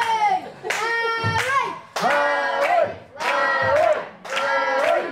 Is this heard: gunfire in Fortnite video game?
no